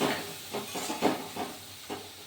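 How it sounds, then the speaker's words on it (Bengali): Cumin, chili and turmeric powders frying in a pan for an egg curry, a soft hiss and sizzle broken by several short bursts of stirring or scraping, close and fairly quiet. "মশলাটা ভাজা ভাজা হতে থাক।"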